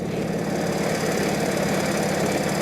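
A 1948 Indian motorcycle's engine runs steadily at about 40–45 mph on a New Jersey backcountry road, a continuous loud, rough, throbbing drone with no pauses.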